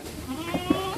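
A small, young Nigerian Dwarf goat at a goat farm bleats in a few short, nasal calls, close and fairly clear over faint background noise.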